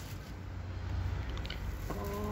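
Farmyard chickens clucking outdoors, a few short clucks and a brief higher call near the end over a steady low background hum, with no talk.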